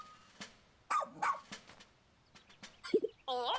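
Oatchi, the dog companion in the video game Pikmin 4, gives a few short, scattered barks and yips, light and synthetic, with gaps of quiet between them and a brighter chirpy burst at the end.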